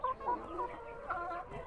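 Laying hen in a nest box on a small farm gives a run of soft, steady clucks and low murmuring calls, close by and alone, with no talk over it.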